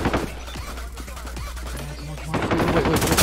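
Automatic gunfire in Call of Duty: Warzone, rapid bursts rattling at moderate distance, swelling louder toward the end, with faint talk underneath.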